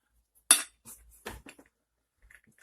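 Chocolate-walnut banana bread batter being spooned into a parchment-lined pan: a few sharp, isolated clinks of a spoon against the dish, separated by near silence.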